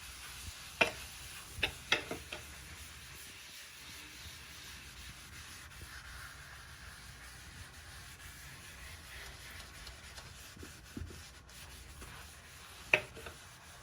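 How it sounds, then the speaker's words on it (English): A bathroom sink is scrubbed with Ajax powder: quiet rubbing and sanding strokes with a few sharp taps and clicks, faint and close, with no talk. "And then I'm gonna scrub like that."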